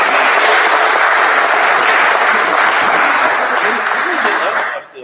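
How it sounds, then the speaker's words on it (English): Audience applause for a debate panel on Scottish independence, a loud, steady wash of many hands clapping that holds for about five seconds, then drops off at the end. "If you just give the panel a round of applause, please."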